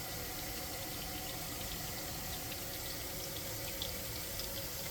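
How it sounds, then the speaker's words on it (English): Water steadily rushing and gurgling down a kitchen sink drain with a newly fitted garbage disposal and sink flange, a constant even flow heard up close with no talking. "And hear it going down the drain"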